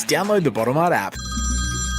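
A telephone ringing in a radio advert: a bright electronic ring tone starts after someone speaks briefly, then rings steadily and loudly to the end.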